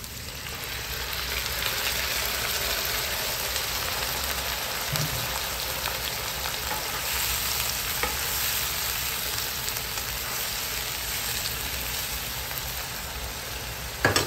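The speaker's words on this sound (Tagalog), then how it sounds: "So ngayon naman ilalagay na natin yung ating pinang-marinade." Pork steak sizzles steadily in a smoky pan as a marinade is poured in, a dense continuous frying hiss with stirring, close and loud, with no voices.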